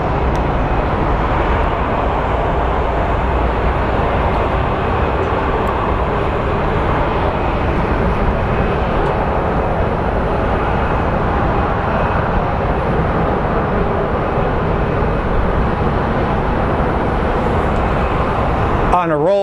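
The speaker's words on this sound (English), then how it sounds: "So we have what looks like an American Airlines 737 that's going to be headed to Burbank." An American Airlines Boeing 737 jet rolls for takeoff at Phoenix Sky Harbor International Airport, a steady, loud broadband engine roar holding for the whole stretch, with voices talking over it.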